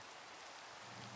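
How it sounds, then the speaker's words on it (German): Rain in the video game Minecraft: a steady, even hiss of rainfall, very faint and continuous for just over a second, with no talk. "Es regnet, sehr schön."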